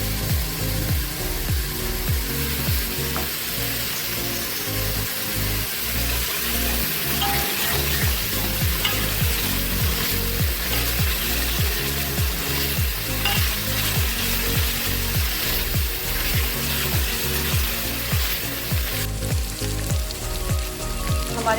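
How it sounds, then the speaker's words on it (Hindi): Onions frying in a pan with crushed spices for a mutton paya (goat trotters) dish give a steady, loud crackling sizzle throughout, broken by frequent clacks and scrapes of stirring. "प्याज की भुनाई हो रही है"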